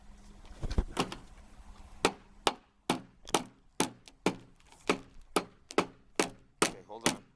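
Sharp hammer blows drive the end of a vinyl fence piece into place, a steady run of about a dozen loud, evenly spaced knocks with short gaps between them.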